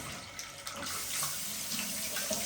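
Pressurized water from a tap rinses detached shisha parts in a steady, close hiss of running water that continues throughout with no speech.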